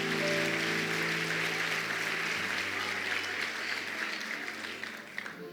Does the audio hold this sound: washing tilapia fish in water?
no